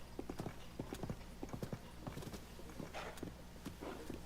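Horse hooves clip-clop in a steady walking rhythm in Zelda: Tears of the Kingdom, a quiet run of paired hoof strikes repeating over a low background hum.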